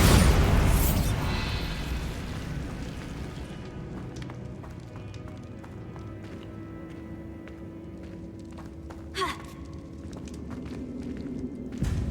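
A Bombarda spell in Hogwarts Legacy bursts with a loud boom at the start that decays into rumbling debris, followed by quieter game effects and a brief whoosh later on.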